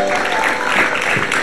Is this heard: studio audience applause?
yes